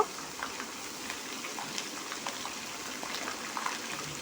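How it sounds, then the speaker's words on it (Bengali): Ginger paste, mustard paste and cumin masala frying in a pan for a green mango pickle, a soft continuous sizzle with light spattering pops, close but quiet, no talking. "সবগুলো উপকরণ দিয়ে মশলাটি খুব সুন্দরভাবে কষিয়ে নেব"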